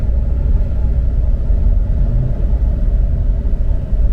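Car with a blown transmission and no working gears, engine straining and droning in a steady low rumble as it labors up toward a hill, loud and continuous throughout.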